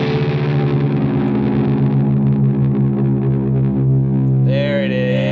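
An electric guitar in drop C tuning rings out a low, heavily distorted note that sustains thick and loud with chorus-like wobble, a brief higher squeal appearing near the end.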